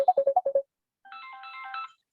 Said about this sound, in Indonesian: ini telepon saya bunyi terus